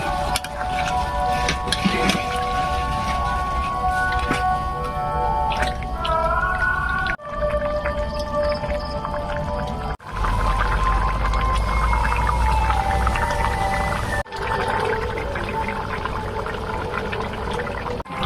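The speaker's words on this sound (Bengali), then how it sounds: "এদিকে মাংস কষানো হয়ে গেছে দিয়ে দিতেছি জল" Water poured into a pan of pork being cooked down, then stirred, giving a long run of bubbling, gurgling and sloshing with squeaky scraping, loud and close.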